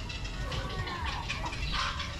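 Mixed bird calls and clucking chatter from a large aviary at the national zoo in Mirpur, Bangladesh, layered and continuous over steady crowd and outdoor noise.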